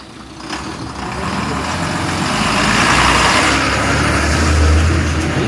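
A bus rolls past on a road near a village fair in Malvan, its engine rumble swelling loudly and holding close, with a low drone building toward the end.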